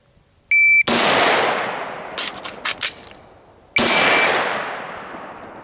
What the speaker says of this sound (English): fire one shot, emergency reload, fire one shot